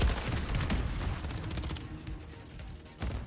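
A turret in Call of Duty Modern Warfare 3 fires a dense, loud rattle of rapid shots. The mechanical bursts are close and continuous for about three seconds.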